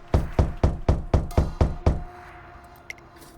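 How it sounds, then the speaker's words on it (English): Thumping knocks on a door in the Umamusume video game come as eight loud, evenly spaced blows in quick rhythm, then stop and leave a quiet, echoing room with a faint tap afterward. "As the thumping on the door echoes throughout the room"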